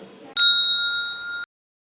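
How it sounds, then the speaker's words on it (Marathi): A single bright notification bell ding strikes sharply, rings as a clean sustained tone for about a second, then cuts off into silence. "ही घंटी वाजवा"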